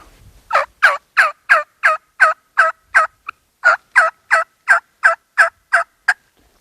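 A hunter's turkey call imitates a hen's assembly yelp: a long, evenly paced run of about sixteen loud, raspy yelps, close and alone, with a short pause partway through.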